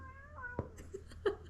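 A pet cat meows indoors, a couple of short, faint cries close by in a quiet room, with a soft voice faintly present.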